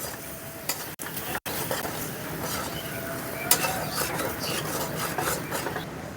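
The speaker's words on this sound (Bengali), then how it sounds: "মশলাটাকে ভালো করে কষিয়ে নেব।" Salt, turmeric and dry chili powder are stir-fried with spices in a pan for mini singara filling, giving a steady close sizzle with scraping stirs and occasional utensil clinks, no voices.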